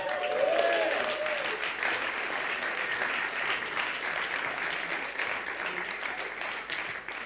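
An audience at a festival opening applauds warmly, with sustained dense clapping that holds steady throughout and fades slightly toward the end, with a few faint voices mixed in.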